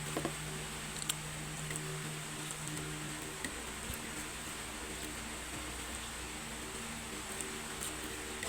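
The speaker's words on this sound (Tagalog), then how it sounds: "Kasi umuulan dito. Malakas." Heavy rain falls steadily, making a dense, continuous patter and hiss that stays even in loudness throughout, with no voices.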